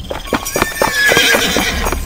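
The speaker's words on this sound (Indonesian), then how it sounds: "Aku benar-benar mendengar suara langkah kaki kuda" Hooves clop in a quick uneven rhythm while a horse whinnies over them, close and clear with no talking.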